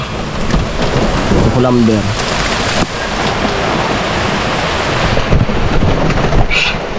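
Heavy, dense rain pours down steadily with low rumbling like distant thunder, loud and continuous under brief bits of talk during a typhoon in Bicol, with trucks being loaded nearby.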